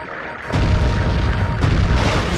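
Heavy cannon booms from a ship battle in the video game Sly 3: Honor Among Thieves, two loud blasts about a second apart with a rumbling low end that carries between them.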